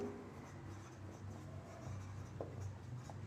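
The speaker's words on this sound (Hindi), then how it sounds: "तो मैं इधर लिख रहा हूं ग्रेफाइट" Chalk or marker scratching on a classroom board during a chemistry lesson, a faint, quiet scrawl of short strokes under low room noise.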